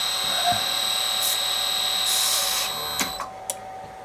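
A CNC spindle motor spins near 2000 RPM with a high steady whine and bursts of bright hiss, then the tone drops away as it stalls, leaving faint clicks and knocks.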